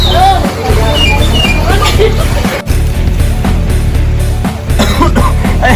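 Several harsh coughs burst out close by over a noisy background of chatter and movement.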